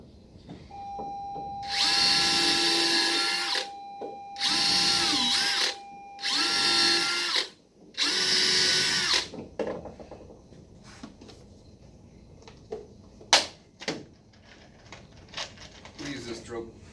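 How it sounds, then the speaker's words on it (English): A power drill bores holes in wood in four sustained whining bursts, each a few seconds long and separated by short pauses, followed by quieter handling clatter and a brief sharp knock. "first I'm gonna drill a couple holes"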